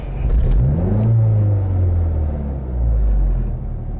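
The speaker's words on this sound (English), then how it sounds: "So I'll do some quick revs" A car engine revs up hard and falls back, then revs again, a loud, close, rising and falling roar with no talking.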